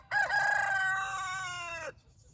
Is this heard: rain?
no